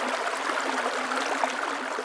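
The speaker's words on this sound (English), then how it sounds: "a dog named Gypsy hangs out near a babbling brook," A babbling brook in open fields in Carroll County, heard as a continuous, even wash of rushing, trickling water with a faint low hum beneath.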